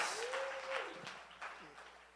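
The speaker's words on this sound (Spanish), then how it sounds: "si estás contento le puedes dar un aplauso a Jesús" A church congregation claps at a Resurrection Sunday service, a broad wash of applause that carries on steadily throughout, with a voice and a sustained tone over it.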